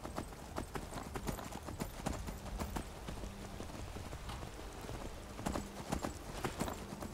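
Horse hooves clip-clop at a sprint in Skyrim, a steady rapid rhythm of thuds running through the whole stretch, fairly close, with faint game ambience beneath and no talk.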